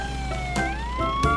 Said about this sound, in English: When in a rush, ambulance should switch on the emergency flash and make loud siren noises.